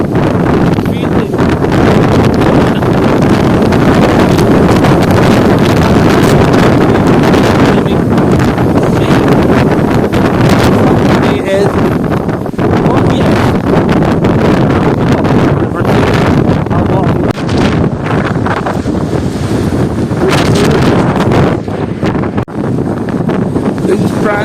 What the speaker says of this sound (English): the wind is picking up quite a bit.